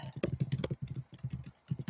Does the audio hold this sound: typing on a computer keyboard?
yes